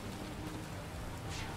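Steady rain in a GTA roleplay game, falling in a continuous even hiss at a fairly low level, with no voices.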